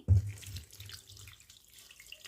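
A tap gushes on with a splash, then water runs steadily into a sink at a low, even level with no talking, while homemade butter is washed for making ghee.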